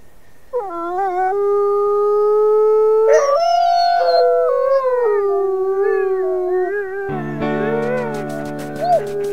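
Several wolves in the video game WolfQuest howl together in long, sliding, overlapping tones, loud and close, ending in a higher chorus of yips and howls with no talking.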